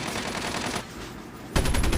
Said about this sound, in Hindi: इतने ही मुझे पीछे गोलियां मारी किसी ने